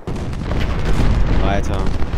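Massed musket and cannon fire from a Civil War battle at Gettysburg in Ultimate General rumbles as a continuous dense crackle of booms, with a voice speaking over the din.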